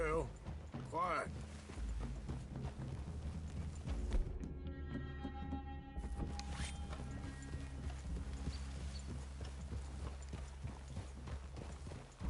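Horses in the game Red Dead Redemption 2 walk with a steady, repeated clip-clop of hooves at close range, and voices talk over the footsteps throughout.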